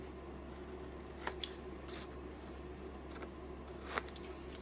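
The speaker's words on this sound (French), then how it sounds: "Donc on vient découper nos languettes de collage." Scissors snip through paper strips being prepared for scrapbooking, a few brief crisp cuts near 1.3 and 4 seconds against a steady low hum, with no talking.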